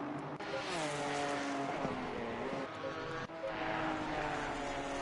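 Porsche race cars in the racing game Assetto Corsa Competizione howl at high revs, a loud continuous engine drone with shifting pitch and brief gear-change dips, with faint tire scrubbing underneath.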